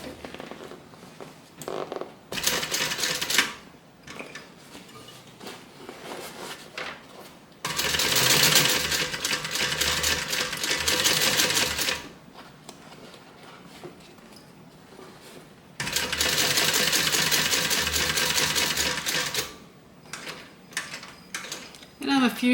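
A sewing machine stitches down the side seam of a bag in several long, steady runs. Each burst of close mechanical whirring is followed by quieter handling noises between passes.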